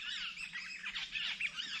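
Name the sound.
birds calling noisily outdoors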